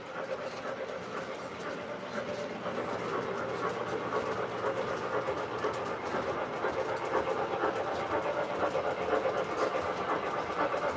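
An O scale model train runs continuously with a steady mechanical whir and faint rhythmic clatter, close and moderately loud, with no one talking.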